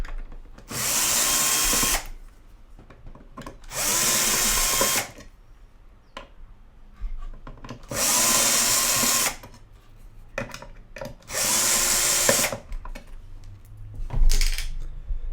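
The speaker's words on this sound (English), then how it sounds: "Undo the 4 screws in each corner." A small power screwdriver runs in four steady whirring bursts of about a second each, with short quiet gaps and light metallic handling between them, as corner screws come out of the metal enclosure cover of a hydroponic planter.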